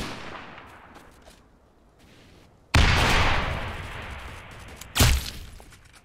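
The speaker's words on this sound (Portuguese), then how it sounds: "Que shotgun mais mentirosa" A shotgun fires in the Neighborhood War video game, with two loud, close blasts a couple of seconds apart and a trailing rumble, plus faint earlier shots.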